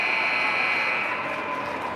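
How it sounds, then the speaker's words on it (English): A hockey rink's end-of-game buzzer at a junior varsity match blares as one loud, steady electronic tone that holds for the full two seconds over a faint arena hum. "Buzzer goes off."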